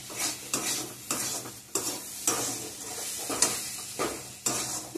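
Spices are stirred in a pan over heat, with a steady sizzle of frying beneath repeated scraping strokes of a spoon against the metal. The strokes come about every half second, close and moderately loud, with no voices.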